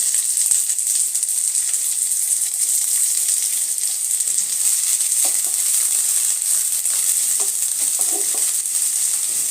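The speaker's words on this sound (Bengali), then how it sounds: "পেঁয়াজটা একটু লাল লাল করে ভেজে নিব।" Chopped onions sizzle steadily in hot mustard oil in a pan, a continuous bright frying hiss with small crackles and occasional stirring scrapes, close and even throughout.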